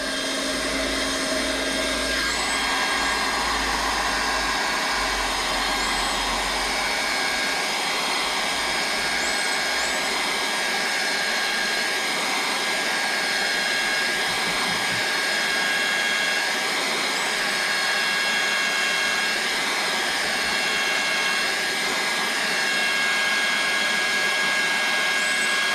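A hot air welder blows continuously during a Zziplex fishing rod rebuild, a loud, steady roaring rush close by that carries on unbroken with no speech.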